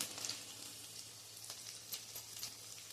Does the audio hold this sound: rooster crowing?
no